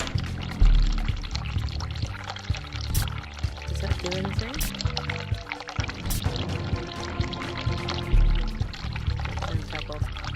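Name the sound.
hot water running from a sink tap in The Cat Lady, video game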